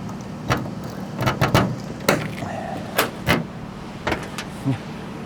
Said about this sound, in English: let's open up the trunk of this classic 1957 Chevy